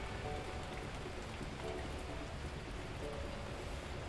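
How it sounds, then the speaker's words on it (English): Heavy rainfall in the Beacon Pines video game, a constant close roar of rain hitting surfaces that holds steady throughout, with no voices. "At that moment, the heavens opened up, unleashing torrential rain."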